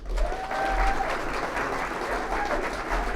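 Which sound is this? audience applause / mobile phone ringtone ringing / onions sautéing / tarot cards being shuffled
audience applause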